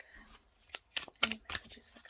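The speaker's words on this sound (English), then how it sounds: "I'm just going to pull one more card from my angel deck." A card is drawn from an angel card deck, giving a few soft papery slides and flicks close by, quiet and brief amid faint rustling.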